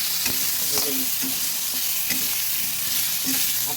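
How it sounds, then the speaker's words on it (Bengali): Potatoes fry in a pan with salt and turmeric for a fish curry, making a loud continuous sizzle broken by repeated scraping stirs of a spatula, close and with no talking. "হালকা নুন হলুদ দিয়ে আলুগুলো ভেজে নেব"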